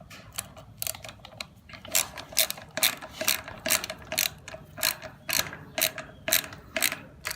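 A ratchet tightens 10mm nuts on utility trailer tail lights, a quick run of sharp clicking bursts in an uneven rhythm, close and fairly quiet, with no voices.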